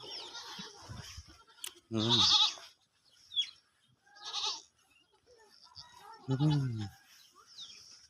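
A young goat kid bleats loudly twice in a riverside village, with wavering cries several seconds apart and softer rustling and faint sounds in between.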